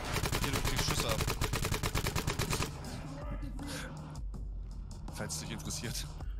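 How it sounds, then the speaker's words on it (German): Rapid gunfire in the tactical shooter Ready or Not, a dense loud burst of repeated shots for about three seconds, then scattered fainter shots and game ambience with voices talking over it. "Hier, du kriegst Schüsse ab."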